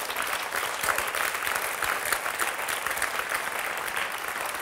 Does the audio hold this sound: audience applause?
yes